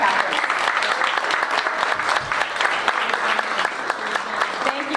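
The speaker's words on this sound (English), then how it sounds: "Round of applause for our block captains." Audience applause for block captains at a community meeting in Miracle Mile, steady and dense clapping from a large crowd held at an even level throughout, with no pauses.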